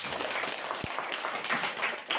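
Quiet applause from a classroom audience after a group presentation, a soft steady patter of clapping lasting a couple of seconds without pause.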